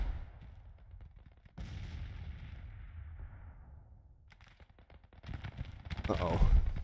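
Artillery guns fire in Grand Tactician: The Civil War, producing a few deep booming blasts that rumble and fade, followed by a louder burst of battle noise near the end.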